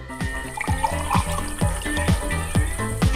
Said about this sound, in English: We fill a glass with milk